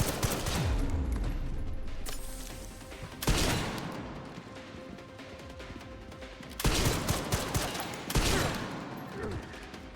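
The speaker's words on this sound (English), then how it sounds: "Gonna be all machine gun with these guys." Sustained machine gun fire in Resident Evil 9: Requiem rattles in several long, loud bursts separated by brief lulls, with voices talking over the shooting.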